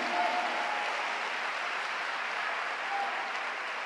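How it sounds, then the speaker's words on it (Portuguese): A church congregation applauds at a Lagoinha Vespasiano inauguration service, a steady even wash of clapping from many hands that holds for several seconds at moderate loudness, with no one speaking over it. "Se é para Jesus, você pode aplaudir."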